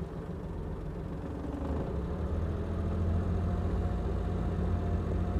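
A 1997 Maruti Suzuki 800 engine idles with no foot on the accelerator, giving a steady low drone that swells slightly in level and runs alone without talk.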